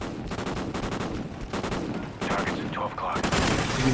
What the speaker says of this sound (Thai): ตอนนี้มันกำลัง มันกำลังยิงมั่วอยู่